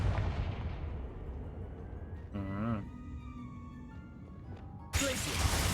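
A Confringo spell blast in Hogwarts Legacy lands as a booming, rumbling explosion. It is followed by a wavering magical whoosh and then a second sharp burst of noise close up.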